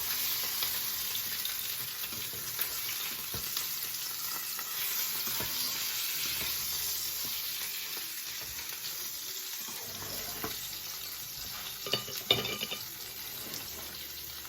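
Stuffed peppers and okra sizzling in a pan just after being turned over: a continuous, moderately quiet frying hiss with a few soft clinks near the end, no talking.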